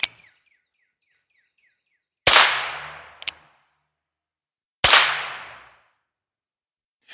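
Three loud sharp pops with short ringing decays, separated by silence, plus a small click after the first; homemade percussion caps made with super glue bursting close by.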